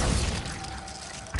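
A Glacius ice spell shattering in a video game: a bright crash of breaking ice bursts at the start and rings out, then a second impact hits at the very end.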